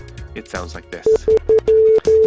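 A steady electronic tone beeps SOS in Morse code: three short pips, then longer tones, loud and close. Someone speaks briefly just before the beeps.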